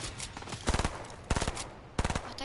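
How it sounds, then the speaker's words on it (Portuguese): Automatic gunfire in a shooting video game, three sharp bursts of rapid shots cutting through a busy, noisy background. "eu estou a levar sempre tiros"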